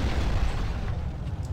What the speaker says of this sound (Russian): Да взрывайся давай быстрее